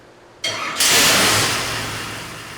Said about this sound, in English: let's get this thing fired up and make some pulls.